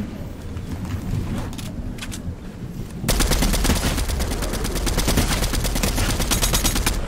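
Rapid SMG fire in a video game, a sustained, loud, close stream of rattling shots with a steady rhythm after a quieter stretch of scattered sounds.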